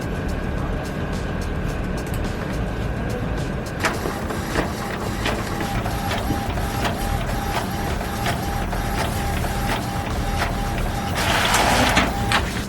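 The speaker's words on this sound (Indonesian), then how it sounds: "Kita langsung ngeprint aja kali ya gambar ya." An Epson L310 series inkjet printer printing a picture, making a steady mechanical whir with repeated clicks and a rising grinding rush near the end, with faint voices in the room.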